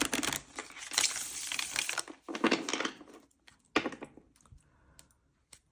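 Playing cards riffle and flutter in several quick bursts, followed by a few soft taps and slides as the deck settles.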